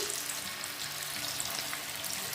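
Boiled potatoes fry in mustard oil for chicken biryani, giving a steady, close, even sizzle with a faint crackle throughout and no one speaking.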